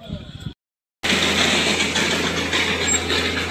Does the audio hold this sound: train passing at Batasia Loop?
yes